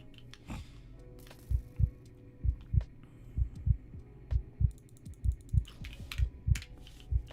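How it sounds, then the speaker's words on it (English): Low-health heartbeat warning in the video game Hypixel SkyBlock: a steady run of deep, thumping double beats repeating throughout, with faint clicks and a soft hum in the background. "I apologize for the heartbeat noise."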